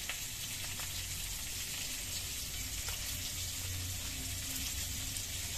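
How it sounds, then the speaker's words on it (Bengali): Jackfruit pieces fry in a pan with a steady, soft, continuous sizzle and crackle throughout, fairly faint and even, with no speech. "এঁচোড়গুলো ভাজা হয়ে গেছে, এঁচোড়গুলো আমি নামিয়ে নিচ্ছি।"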